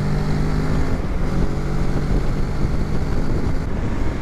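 Kawasaki Z650 motorcycle on a test ride, its engine droning steadily under heavy, constant wind rush across the microphone, with no speech.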